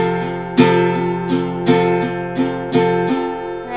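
Acoustic guitar strumming a chord shape in a steady eight-count rhythm, with firm accented down strums standing out among lighter strokes, close and clear with ringing sustain.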